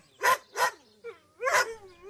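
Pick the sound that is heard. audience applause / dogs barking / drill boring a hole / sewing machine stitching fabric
dogs barking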